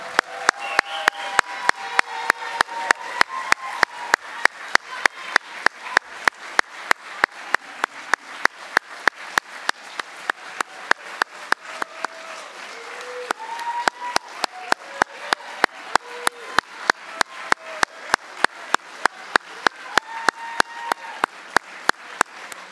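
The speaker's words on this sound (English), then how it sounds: "Huge round of applause for the StriveU class of 2019." At a graduation ceremony, a crowd keeps clapping for the graduating class while one close, loud clapper beats a steady fast rhythm throughout, with occasional cheers rising in the background.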